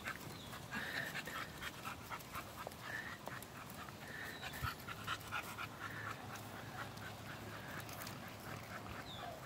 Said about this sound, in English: Great looking bull dog.